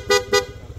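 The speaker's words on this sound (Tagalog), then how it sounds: "PIA horn," A PIA horn fitted to a Kymco Venture 150 scooter sounds two short, sharp toots in quick succession, loud and close, over a low engine idle.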